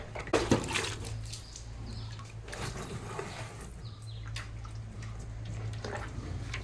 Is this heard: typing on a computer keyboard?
no